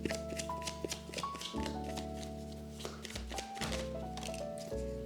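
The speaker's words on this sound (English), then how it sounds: "So let's pull some cards." Tarot cards being shuffled and pulled by hand, a rapid series of close, crisp riffling slaps and taps with a soft musical backing underneath and no speech.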